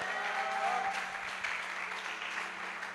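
A church congregation applauding together, a steady wash of clapping that holds at an even loudness from start to finish, heard from inside the crowd with no talk over it.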